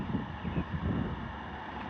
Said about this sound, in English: It is getting very windy, so I apologize for that